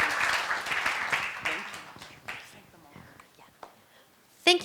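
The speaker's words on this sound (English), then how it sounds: "So a round of applause for our panel." A panel-discussion audience at a children's mental health forum applauds, a dense wash of clapping that fades over several seconds, followed by a short sharp noise near the end.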